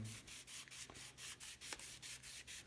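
Sandpaper wet-sanding a wooden guitar headstock back and forth in a steady rhythm, about ten even strokes, close and quiet with a soft rasping hiss.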